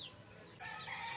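A rooster at a backyard game farm crows faintly in the distance, a short call rising over soft outdoor ambience.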